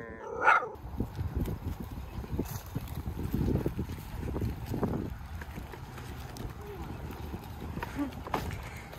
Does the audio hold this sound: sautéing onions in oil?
no